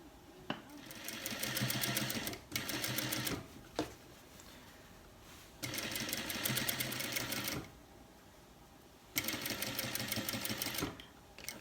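A sewing machine stitches the back seam of cargo trousers, joining prepared bias binding along the edge. It runs in three steady bursts of rapid stitching, each lasting a few seconds, separated by short pauses. Close, moderately loud, with no talking.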